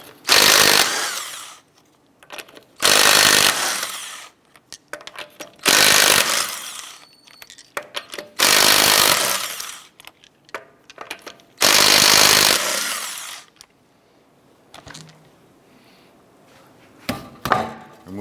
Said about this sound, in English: Using a 19mm socket, let's go ahead and remove the lug nuts.